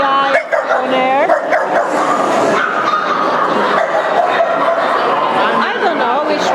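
Several dogs bark and yip in a busy dog breeders' area at a show, with sharp barks repeating over steady crowd noise and nearby voices talking throughout.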